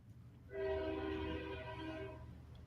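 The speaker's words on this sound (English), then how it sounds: "that sounds like a train" A train horn sounds in one long, loud blast that rises and holds for about a second and a half before fading, with the rumble of rail cars underneath and no talking.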